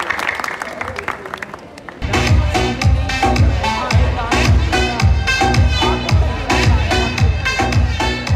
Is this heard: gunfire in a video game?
no